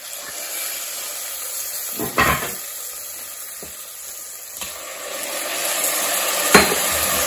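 Tomatoes are added to garlic frying in a pan for a goat-meat mutton do pyaza: a steady close sizzle and hiss, broken by a few brief stirring scrapes.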